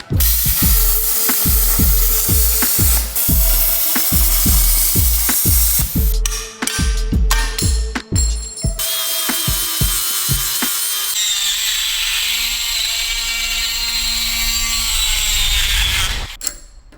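A steering part for a half-scale NASCAR is cut out by a power saw, a rapid run of loud rhythmic cutting bursts that gives way to a steady high whine and grinding before stopping abruptly, with no talking.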